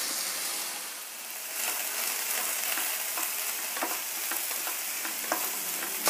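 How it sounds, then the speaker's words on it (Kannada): Freshly chopped fenugreek leaves hit a sizzling tempering of onions, chana dal and urad dal. A dense, close frying hiss is broken by frequent scraping strokes of a spatula against the pan, with no talking. "ಈಗ ಹಚ್ಚಿಟ್ಕೊಂಡಿರೋ ಮೆಂತ್ಯ ಸೊಪ್ಪನ್ನು ಸೇರಿಸ್ತಾ ಇದ್ದೀನಿ ಒಗ್ಗರಣೆನಲ್ಲಿ."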